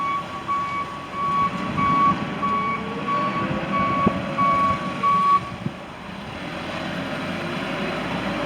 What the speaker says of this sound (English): And I'm gonna let Justin take off and drive it around and do his thing.